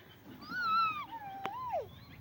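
A person's voice imitates a cat's meow in a single drawn-out, rising and falling call, close and clear over a quiet background.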